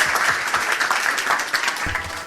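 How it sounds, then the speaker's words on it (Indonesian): A classroom group applauding, a brief burst of scattered clapping from the students, close and lively, lasting a couple of seconds before fading. "Tepuk tangan dulu dong, kalau kan dia udah benar."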